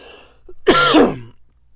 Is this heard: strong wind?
no